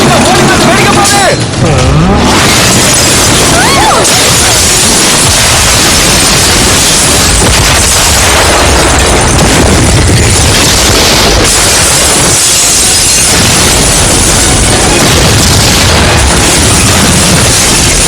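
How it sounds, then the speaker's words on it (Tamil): Explosions and car action in an action film, loud booming bursts and roaring engine noise with crashing debris, dense and continuous, mixed with shouted voices. "வெடிக்க போகுது."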